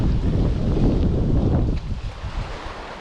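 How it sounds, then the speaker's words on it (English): Wind buffets a microphone outdoors in a steady, loud low rumble with gusty fluctuations, no voices present. "gonna get out of the wind"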